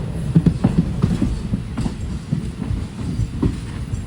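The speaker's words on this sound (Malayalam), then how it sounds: "നിലമ്പൂർ റോഡ് റെയിൽവേ സ്റ്റേഷനിൽ കറക്റ്റ് 10:05 തന്നെ ഇതാ നമ്മുടെ ട്രെയിൻ എടുത്തു" A passenger train pulls out of Nilambur Road station bound for Shoranur, wheels clacking in a rough rhythm over the rails with rumbling carriages nearby.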